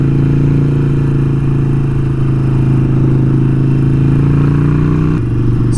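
A custom Harley-Davidson Sportster Forty-Eight cruises with a steady, loud, close engine rumble and deep exhaust drone that holds constant throughout, with a slight shift in tone near the end.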